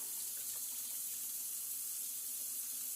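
Lukewarm water runs steadily from a kitchen sink tap over beans being rinsed, a constant hissing splash with no pauses.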